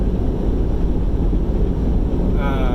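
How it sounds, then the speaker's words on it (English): Loud, strong wind gusting over 50 roaring continuously against the microphone, low rumbling gusts with no speech. "because the wind is blowing so hard"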